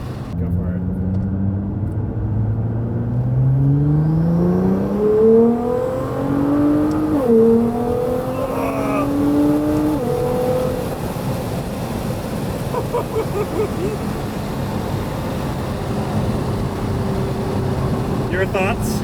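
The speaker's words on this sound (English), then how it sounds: "this engine sounds nuts. It sounds really good." Nissan R35 GTR engine revving hard as it accelerates through the gears in manual mode, rising pitch sweeps and a loud steady drone, with people talking inside the car over it.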